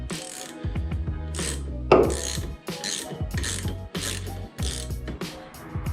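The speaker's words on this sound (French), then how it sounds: "Donc je reprends ma douille de 13. Évidemment, je la mets sur serrage." A ratchet wrench with a 13 mm socket tightens a bolt on a Chrysler Crossfire, a string of close, crisp clicking bursts that repeat steadily with short pauses and one sharper knock partway through.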